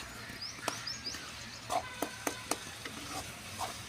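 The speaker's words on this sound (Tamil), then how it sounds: "நல்லா கிளறி விட்டுடலாங்க மசாலா எல்லா பக்கம் படுற மாதிரி" Onion stir-fry being stirred in a pan with chili powder and masala: soft sizzling under repeated scraping clicks of a spoon against the pan, fairly close and quiet.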